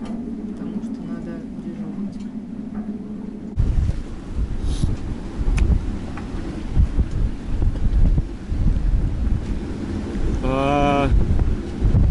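Strong southwest wind of about 35 to 40 knots from Hurricane Nicole roars and buffets around a boat sheltering in Hooker bay, Florida, a steady loud rush with gusts, while a person talks over it.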